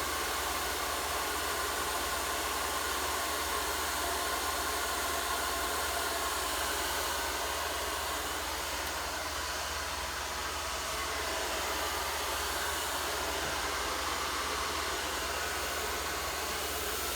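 A hair dryer roars steadily and close for the whole stretch, a dense continuous airy blast used with a round brush to blow-dry hair, with no pauses or voices.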